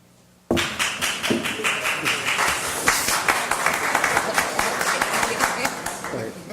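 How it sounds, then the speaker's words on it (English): Applause from an audience at a Boynton Beach city commission meeting starts abruptly and holds steady as dense, sustained clapping from many hands. "You got an applause before you present."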